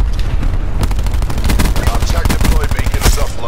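Gunship gunfire in the video game Black Ops 4: rapid, loud bursts of shots crackle continuously, dense and close, with a few heavier cracks among them.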